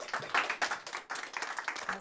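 Audience at a talk event applauding to welcome a speaker, steady dense clapping from many hands at moderate distance.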